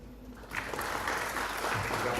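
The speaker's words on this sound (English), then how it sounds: "let's give a huge round of applause for ourselves for listening to this" Conference attendees at an engineering and information technology event begin clapping after a brief quiet moment, the applause swelling quickly and continuing as a full, steady wash of claps.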